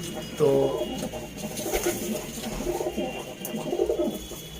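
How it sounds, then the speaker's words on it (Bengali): Pigeons coo repeatedly in a loft of tippler and other breeds, soft rolling calls at close to middle distance, with someone talking faintly underneath. "খুব ভালো স্ট্রাকচার রয়েছে পায়রাগুলোর মধ্যে"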